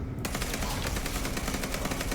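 Rapid automatic gunfire from a shootout in the video game Vampire: The Masquerade - Bloodlines 2, a dense, continuous burst of loud shots that starts abruptly and keeps going with no voices over it.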